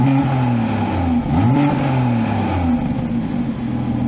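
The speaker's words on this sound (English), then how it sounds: "So here's a couple revs in comfort." A BMW 340i with the B58 engine and M Performance exhaust revs in comfort mode: a couple of quick blips rise and fall over a steady idle, close and clear.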